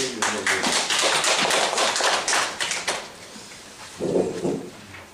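A burst of clapping from a group at a labor union public forum, welcoming a speaker, fills the first few seconds, then thins out, with a short murmur of voices near the end.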